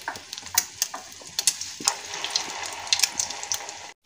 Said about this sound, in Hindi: मीडियम फ्लेम पर हम शामियों को फ्राई करेंगे।